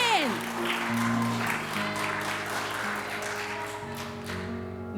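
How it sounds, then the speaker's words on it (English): Applause rises for a panelist being called up at a panel event, a moderate crowd clapping in a broad wash over sustained background music tones. "Give her a round of applause, everybody"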